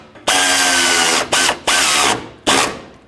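Bolts on a Toyota Camry intake duct being snugged up with a ratchet or power driver, working close up in loud bursts: one long run, then two shorter ones and a final brief burst, each trailing off.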